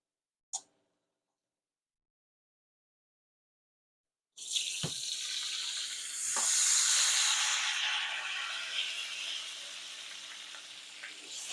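Water poured into a hot pan of butter and steak bursts into loud, steady sizzling and hissing that swells and then slowly eases, after a brief click and a few seconds of silence.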